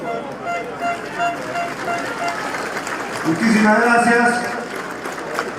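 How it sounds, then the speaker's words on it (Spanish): Applause from an audience at a public accountability hearing of Peru's Apurímac regional government, welcoming the Talavera district mayor; steady clapping runs throughout, swelling near the end, while someone speaks over it. "Lo vamos a recibir con aplausos."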